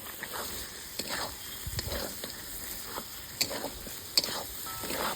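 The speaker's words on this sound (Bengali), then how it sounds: "এই সময় এবার ভালো করে একটু কষিয়ে নিব।" Mutton ghugni mixture with goat meat fries in a pan, a constant sizzle broken by scraping stirs and clicks of the spoon, close and moderately loud.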